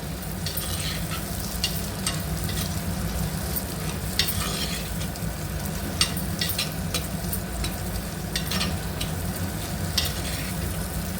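Curry leaves fry in oil for sorakaya (bottle gourd) pulusu as they are stirred. A steady close sizzle runs throughout, broken by repeated scraping stir strokes, with no talking.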